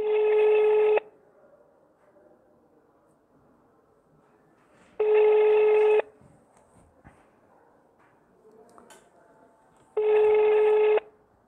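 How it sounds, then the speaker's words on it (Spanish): Telephone dialing tones during a prize draw call to a participant, three identical one-second bursts spaced about five seconds apart, fairly loud and clear over quiet background. "vamos con la tercera y última llamada del cuarto participante"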